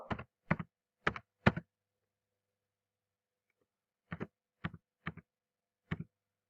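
Quiet computer keyboard keystrokes while filling in an online form, a quick burst of four clicks, a pause, then several more scattered taps, close and alone.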